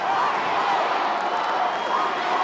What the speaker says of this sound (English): And the crowd are absolutely loving every minute of this.